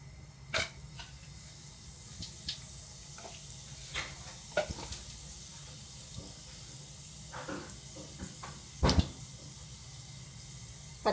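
Oil, cumin and mustard seeds sizzle in a pan, with a quiet steady fry and scattered sharp pops and crackles of seeds bursting. No talking.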